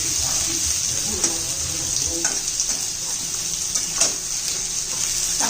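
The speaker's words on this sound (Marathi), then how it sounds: "परतून घेते मी आता हे बघा कांदा आपला झालेला आहे" Chopped onions sauté in a hot pan for rajma biryani, a loud continuous sizzle with steady stirring and occasional scraping strokes, close and unbroken throughout.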